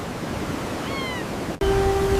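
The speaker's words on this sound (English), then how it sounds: "Between the crests of towering waves, they glide through the churning foam." Wind-whipped sea with ocean waves crashing and churning foam, a steady broad rushing roar, interrupted by a sudden cut before a steady tone enters over the surf.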